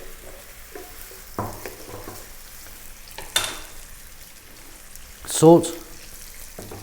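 Sliced onions, a cup's worth, hit a hot pan over high heat and sizzle with stirring scrapes, a louder burst near the end, while a person talks over the cooking.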